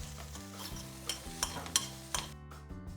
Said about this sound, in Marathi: गॅस मी बंद केला आणि हे छान आपण हलवून घेऊयात